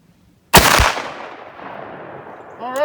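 A single sharp, loud blast from a 12 gauge shotgun firing a Fury slug at an outdoor range, with a quick double-edged report and a long fading echo, followed by a brief voice.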